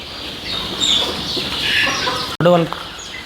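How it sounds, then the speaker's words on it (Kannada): Many two-month-old chickens in a poultry shed cluck and chirp together in a dense, constant chorus, with a brief sharp knock near the end. "ಇವು ದೊಡ್ಡ ಕೋಳಿ ಸರ್ ಇವು 2 ತಿಂಗಳು ಮರಿವ ರೀ"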